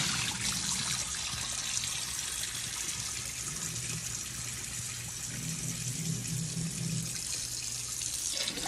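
Rice being washed under a running tap: a steady, close rush of water hisses continuously, with faint sloshing underneath and no voices.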